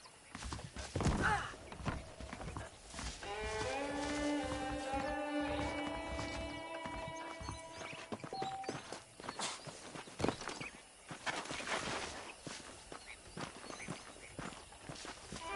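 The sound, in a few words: horses' hooves clip-clopping in the video game Red Dead Redemption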